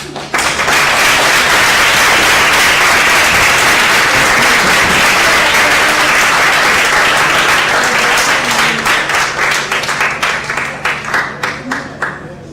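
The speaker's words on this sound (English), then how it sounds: "No questions, just clap?" Sustained applause from a sizable school audience after an oral defense, loud and dense, thinning toward the end into scattered individual claps.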